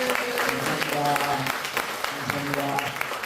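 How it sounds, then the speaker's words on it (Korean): Big round of applause from an audience at a speech event, a steady wash of clapping throughout, heard together with voices and some musical tones in the background. "정말 다시 한번 여러분 큰 박수 한번 주시기 바랍니다."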